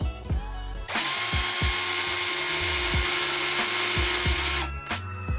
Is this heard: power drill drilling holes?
yes